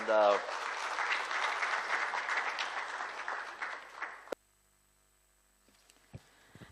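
Audience applause for conference panelists at a non-proliferation conference session in Islamabad, a steady mass of clapping for about four seconds that ends abruptly, followed by near silence with a few faint knocks.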